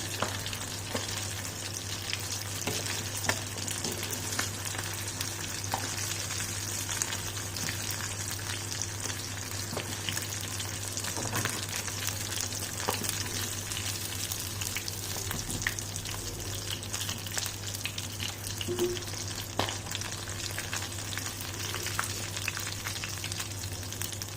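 Flying fish (kola meen) fries in hot oil with a steady, dense sizzle throughout, with occasional soft pops and crackles rising above the constant bubbling hiss; no voices.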